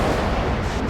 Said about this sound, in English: Combat Unit 2, ready to launch the missile.